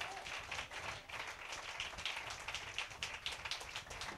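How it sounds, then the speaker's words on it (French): A church congregation clapping in praise, a soft, distant wash of many hands heard steadily throughout at low level. "Est-ce qu'on peut donner une bonne main d'acclamation au Seigneur?"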